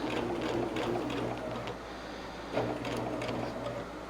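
A sewing machine stitches binding onto a fabric table runner close by, with a fast steady motor whir and rapid needle chatter that briefly stops and then resumes.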